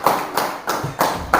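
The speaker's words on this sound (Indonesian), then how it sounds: "tepuk tangan sekali lagi untuk kita nak" A class of students claps in a classroom lesson, giving bursts of hand claps in short groups of roughly three quick rounds, near and moderately loud with no talk over it.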